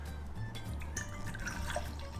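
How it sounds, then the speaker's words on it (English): Liquid for a fall cocktail, mixed with ginger beer and spices, pours into a shaker, a soft trickling splash that runs steadily under a low background rumble. "I'm gonna pour this into my shaker."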